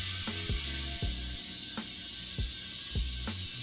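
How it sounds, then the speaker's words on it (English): A hand pump inflates a bicycle tire during a flat repair, giving a steady series of sharp, close mechanical strokes at an even rhythm, roughly one every half second, with no talking. "I'm just gonna pump this up, put a little bit of pressure in it."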